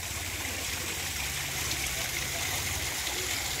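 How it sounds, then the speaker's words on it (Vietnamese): An artificial stream spills over old stone in a koi pond rockery, producing a constant, even rush of flowing water that is close and steady throughout. "tạo nên một cái vách, một cái suối ngẫu hứng tự nhiên"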